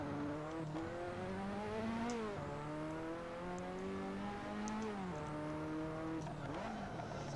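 Racing car engine in the video game Assetto Corsa, steady and loud, with harmonic whine rising and dropping through gear shifts and corner braking, no talk over it.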